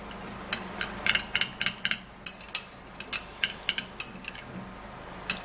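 Banana peel paste being stirred and mixed in a small container, a run of quick, irregular clicks and taps from the utensil against the sides, close and fairly light, with no talk.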